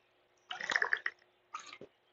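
Water gushes from a Coleman thermos jug in two short bursts, a longer splashing pour then a brief second one, close and clear at moderate volume with no talk.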